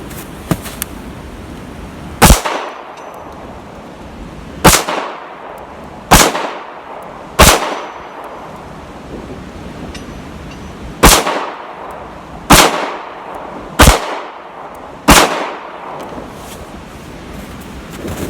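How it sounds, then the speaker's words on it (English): Eight sharp, loud shots from a Taurus G2C pistol fired at targets outdoors, spaced a few seconds apart, each with a short echoing tail and no talk. "I've got a couple different targets over that I'm shooting at."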